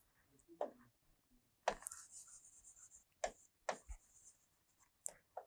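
Marker or chalk writing on a board during an English grammar lesson, with several separate stroke bursts and pauses between them, close and fairly quiet, with no talk.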